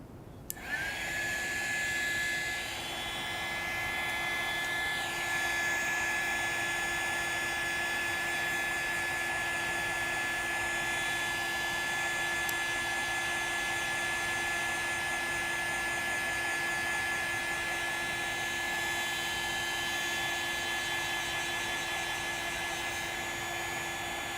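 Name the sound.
hair dryer drying paint on a landscape painting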